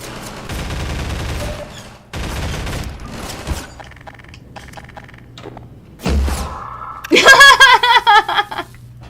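Gunfire from the Half-Life 2 video game, sharp bursts of rapid shots in two rough clusters and a louder rattling volley near the end, with people talking between them.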